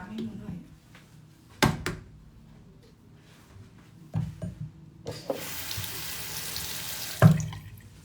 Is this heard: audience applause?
no